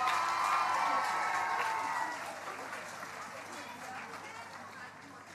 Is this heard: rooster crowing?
no